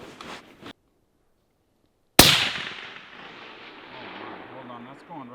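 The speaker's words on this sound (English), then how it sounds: "time to put PowerPoint Winchester downrange" A single loud rifle shot firing cheap Winchester Power-Point ammunition at a range, a sharp crack followed by a long rolling echo, after brief talk and a moment of silence.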